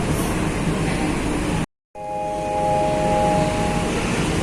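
Train rumbling past at Wlingi station in Indonesia, a loud continuous roar with a brief cut of silence, then rolling on with steady wheel noise and a tonal squeal or hum.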